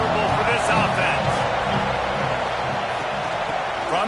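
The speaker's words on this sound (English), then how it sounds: "This crowd trying to make life miserable for this offense." Dense roar of a college football stadium crowd at an Oklahoma game, loud and sustained throughout, with faint scattered shouts and a broadcast voice talking over the noise.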